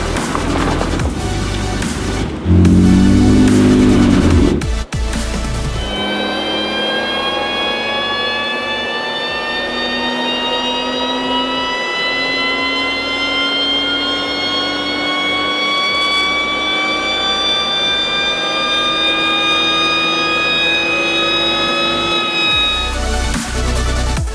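A BMW E36 328i with a Fox rear muffler runs on a dyno. After a rough start, the engine note climbs in one long, steady, loud pull as the revs rise.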